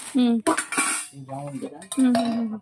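Steel idli steamer plates clatter and ring against each other, several bright metallic knocks and sustained tones in quick succession, close and fairly loud.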